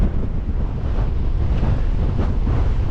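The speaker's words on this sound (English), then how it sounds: "That's how windy it is." Strong wind roars and buffets the microphone continuously, a loud rushing noise with no voices.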